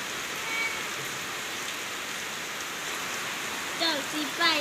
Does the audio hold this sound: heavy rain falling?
yes